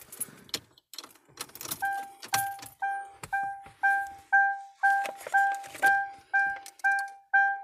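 A set of keys jangles and clicks for a couple of seconds, followed by a steady, evenly spaced series of loud electronic beeping tones, with no talking.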